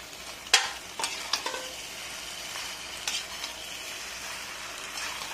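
Pasta tipped into a frying pan and stirred, giving a close, soft sizzle with a few sharp clinks and scrapes of the utensil against the pan.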